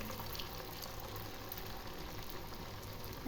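Sabudana vadas fry in hot oil in a kadai, giving a soft, continuous bubbling sizzle that stays faint and even throughout.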